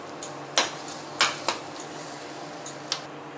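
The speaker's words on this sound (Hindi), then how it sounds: "इसी तरीका से इसको अच्छे से भून लेंगे मसाला को।" Masala roasting in a pan for paneer butter masala brings a handful of sharp spoon scrapes and clinks against the metal at uneven intervals over a quiet background.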